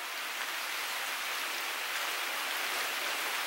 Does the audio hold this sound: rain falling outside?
yes